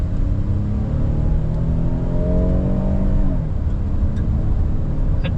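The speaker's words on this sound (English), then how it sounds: "Not a whole lot of engine noise until I actually did press on it pretty hard." SUV engine accelerating hard up to the speed limit, heard from inside as a steady road rumble with a rising engine tone that climbs for about three seconds, then levels off.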